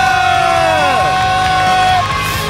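A crowd at a StarCraft match cheering and whooping loudly, a sustained roar of many voices with yells rising over it, under faint game music tones.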